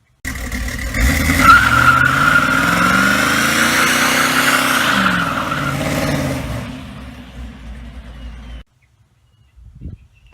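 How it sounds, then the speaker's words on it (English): A 1972 Chevy C10 pickup truck does a burnout, its engine roaring loudly as the tires squeal and screech for several seconds before the sound fades and cuts off near the end. "I'll insert a video of me doing a burnout in it right here."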